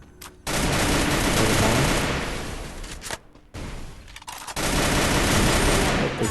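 Bursts of rapid automatic gunfire in a video game, loud and dense, in two long stretches separated by brief pauses.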